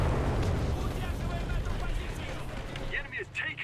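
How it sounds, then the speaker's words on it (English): Rumbling battlefield noise from the World War II shooter game Enlisted, with dense gunfire and booming blasts that are loud and sustained throughout, easing slightly toward the end with a few sharper bursts. "Somebody shooting me."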